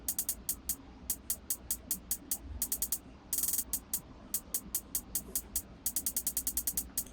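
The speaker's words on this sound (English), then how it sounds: "we've got a hi-hat bouncing side to side" Crisp EDM hi-hats tick in a fast, steady pattern that bounces from side to side, with a brief noisy burst midway and faint low rumble beneath, no voices.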